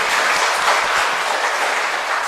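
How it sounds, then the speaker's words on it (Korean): A church congregation claps together during a Wednesday service, a dense, even roar of applause filling the room at full strength from start to finish. "우리 박수 한번 해드리십시오"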